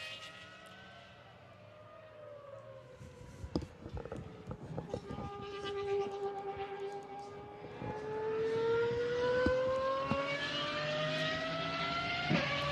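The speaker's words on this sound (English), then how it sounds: "This is the sound of a V12 engine, a very special one for the Pagani Huayra R." Pagani Huayra R V12 engine on the Nürburgring circuit, rising into a long, loud wail that climbs steadily in pitch as it revs, with a louder sustained scream near the end.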